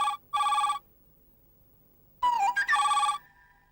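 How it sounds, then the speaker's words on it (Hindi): Telephone ringing in a Hindi sitcom household, two loud electronic rings separated by a silent gap, the second ring warbling at its start before settling into a steady tone. "जयश्री का फोन है पूना से।"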